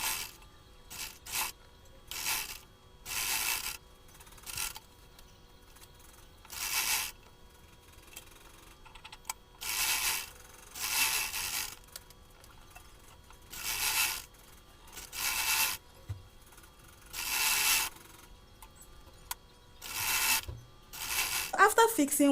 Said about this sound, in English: So I'm just going to take this to my sewing machine and put this together.